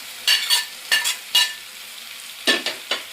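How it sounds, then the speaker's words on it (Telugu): Paneer is being stirred into spinach and fenugreek in a pan: a few close, sharp scraping strokes come in short bursts over a faint sizzle. "పన్నీర్ వేసుకున్నాక ఒక్కసారి ఇలా కలిపేసుకున్న తర్వాత సైడ్ నుంచి కలుపుకోవాలి"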